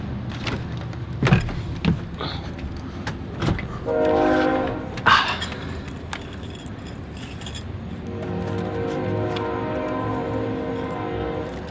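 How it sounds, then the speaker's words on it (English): A train rolls past with a horn sounding in sharp, tonal blasts over rumbling wheels and rattling cars, fairly close and loud, the horn returning as a sustained chord near the end. "Hear that train?"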